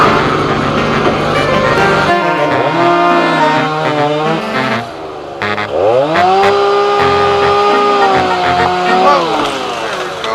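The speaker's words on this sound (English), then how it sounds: "Looks like we need the chainsaw back" A loud chainsaw engine revs and drones steadily, its pitch dipping and rising as it bites into a tree trunk, with no voices over it.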